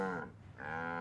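A single cow moos twice, loud and close, with a short dip between the low drawn-out calls, during hand milking on a farm.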